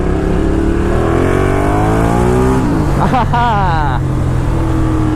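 A Ducati Diavel cruiser motorcycle's engine revs and climbs in pitch, then drops and surges again, loud and close, with a rider talking over the steady roar.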